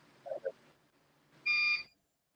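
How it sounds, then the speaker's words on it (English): A backup battery unit gives a single loud, shrill beep lasting about a third of a second during a power outage, after a few faint soft sounds in an otherwise quiet room. "You hear the beep?"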